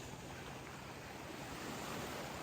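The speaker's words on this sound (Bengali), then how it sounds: "বড় বড় ঢেউ আসতেছে" Large ocean waves at Saint Martin beach produce a faint, unbroken wash of surf with no distinct breaks or voices.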